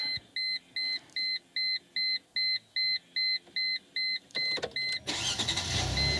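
A car chimes in a steady series of beeps, then the engine cranks and starts with a rising rumble near the end.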